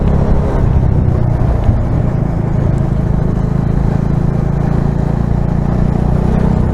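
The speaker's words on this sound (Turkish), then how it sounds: "Motorun çekişi düştü. Zor gidiyor." A Bajaj Dominar 400 motorcycle labours up a narrow, winding mountain road at altitude, its engine droning steadily and loudly under constant wind rush, with no clear rise in revs.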